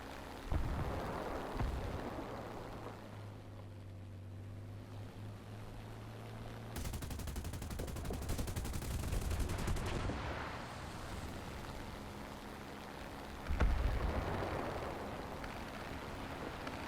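Bombs and gunfire in a War Thunder air battle with a Bf 110 G-4: dull distant booms and a stretch of rapid firing over constant aircraft engine drone, fairly faint overall.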